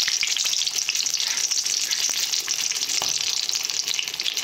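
Whole tomatoes and green chillies frying in hot oil in a pan, giving a close, continuous bright sizzle with crackling spits and a few small clinks, steady throughout and with no talk.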